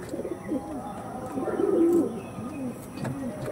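Pigeons coo softly in repeated low, throaty phrases nearby, with a few faint chirps.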